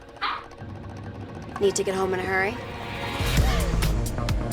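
Puppies in a Nissan Sentra TV commercial let out a few short, excited barks and yips amid an announcer's voice and background music.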